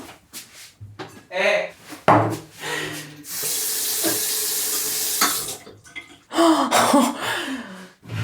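A kitchen tap runs in a steady rushing stream into a sink for a few seconds, close and loud, between clatters and bits of handling noise, with people talking briefly around it.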